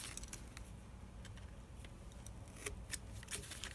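Quiet, close snips of scissors cutting paper while making a DIY postcard template, a series of short crisp clicks and slices spaced irregularly over faint background noise.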